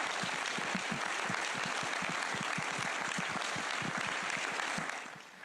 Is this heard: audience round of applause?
yes